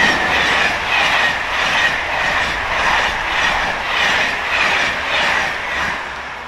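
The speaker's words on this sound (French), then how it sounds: "vous venez de voir passer un Intercité" An Intercité passenger train rolls past close by near La Réole, France, with a loud, steady roar and rhythmic clickety-clack from the wheels pulsing over the rails throughout.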